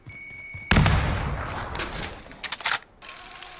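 A grenade in a first-person shooter video game detonates with a sudden loud blast, followed by a rumbling tail and a few sharp cracks of nearby gunfire.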